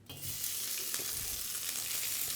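Smoking-hot oil in a wok for flash frying turkey and Brussels sprouts, a steady bright sizzle that stays loud and even throughout, with a faint clink near the start.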